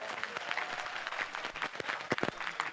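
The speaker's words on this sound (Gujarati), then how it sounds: "બાબાભાઈ માટે એક વખત ફરીથી જોરદાર તાળીઓ થઈ જાય" An audience gathered for a Bharwad community girls' hostel groundbreaking ceremony applauds for Bababhai, giving a dense, steady round of clapping from a sizeable crowd, fairly near and continuing without pause.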